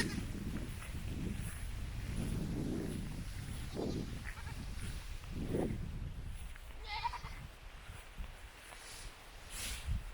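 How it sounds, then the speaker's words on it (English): Goats bleat at a homestead, several calls in bursts of varying loudness over steady low background rumble and some movement, at moderate distance. "I hear the goats though"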